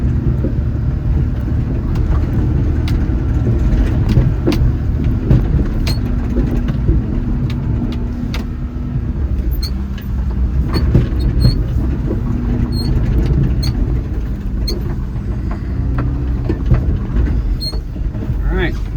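A kei car on cheap all-season tires labours up an icy slope. Engine drone and tire rumble stay loud and constant through the whole stretch, with faint scrabbling from wheels spinning on the ice.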